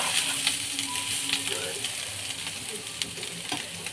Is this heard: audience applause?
no